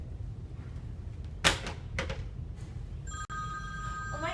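A telephone rings with a bright repeated electronic tone for an incoming call, heard up close with no talking, following a few sharp clicks and a sweeping whoosh.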